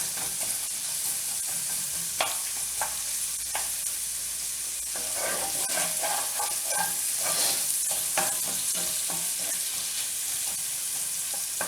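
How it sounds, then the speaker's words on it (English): Onions sauteing in a pan for a zucchini, sausage and rice casserole, a continuous sizzle with repeated scraping stirs and spatula taps, close up and without talk. "And I'm going to go ahead and put my onions in here. And saute them up."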